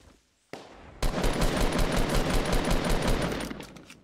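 A sustained, rapid stream of automatic gunfire in Fortnite kicks in after a brief quiet moment, loud and continuous for a few seconds before tapering slightly.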